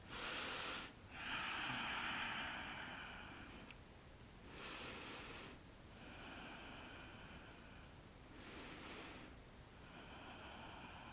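Slow, deep breathing during a yoga relaxation pose, lying on a mat with hands on belly and heart: long airy inhales and exhales in a steady rhythm, close and fairly loud, with no talk.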